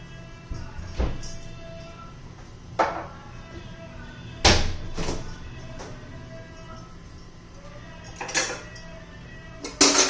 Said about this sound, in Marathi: आपण तवा गरम करण्यासाठी ठेवलेला आहे हा माझा लोखंडी तवा आहे